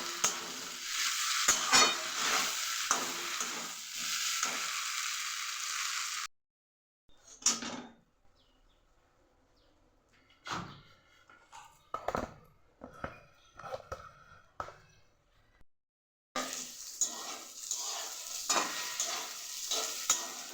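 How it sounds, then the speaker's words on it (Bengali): Cauliflower and potatoes are stir-fried in a cooked spice paste, giving a strong sizzle with stirring and scraping at the start and again at the end, separated by a quieter stretch of scattered clinks and utensil knocks. "এবার এর মধ্যে ফুলকপির আলুগুলো দিয়ে দেবো, একটু নাড়াচাড়া করে নেব।"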